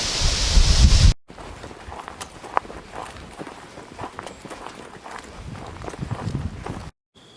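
Footsteps of a hunter walking along a fence line on Nebraska public land during a whitetail hunt, steady crunching steps outdoors under light wind noise on the microphone, close by with no talking.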